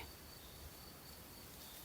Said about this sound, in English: Crickets have begun their evening song, a steady, rhythmic chirp that fits perfectly with your slower breathing.